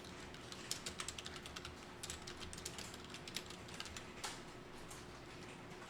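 Someone types a product description on a computer keyboard, a quiet run of soft, irregular keystroke clicks with brief pauses, heard alone against a faint room hiss.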